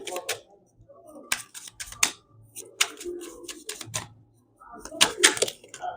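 Tarot cards being shuffled and drawn close up, sounding as bursts of crisp card riffles and snaps in short clusters, with a voice speaking softly in the pauses between them.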